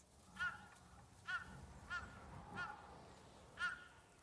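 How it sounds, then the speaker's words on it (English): Repeated crow caws from a video game set in wild outdoor terrain, five calls spaced about a second apart at moderate distance over a soft windy background. "A crow. She has a lot to say."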